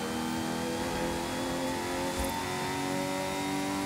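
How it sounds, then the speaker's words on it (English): Turbocharged V12 Ferrari engine in the video game Forza Horizon 5, a steady revving drone with layered tonal whine from turbo spooling, heard from the cabin at moderate level. "Still has a V12 sound. Still sounds really good from the inside, but now you just hear the turbo spooling up"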